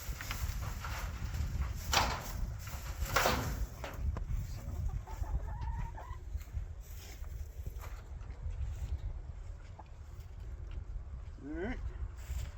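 Pasture-raised chickens on snow cluck and call intermittently around a coop outdoors, with scattered scuffing and knocks, moderately close and unhurried.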